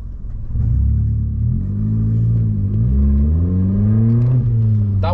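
A Vauxhall Corsa fitted with a throttle controller revs and accelerates hard, its engine rumble rising and falling in pitch through several loud surges, close by with no talking.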